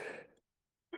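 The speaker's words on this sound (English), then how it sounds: "Pardon my cough." A single close, harsh cough or throat-clearing burst from an adult man during a live talk broadcast, lasting under half a second, followed by silence and the start of another sound at the very end.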